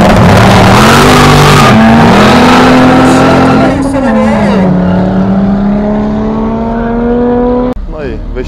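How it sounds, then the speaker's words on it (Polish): An engine roars at full throttle through rising gears during a quarter-mile drag race between a BMW E30 and an old Honda Civic at an airfield, loud and close, ending in a sharp clatter. "wyścig BMW E30 kontra stary Honda Civic"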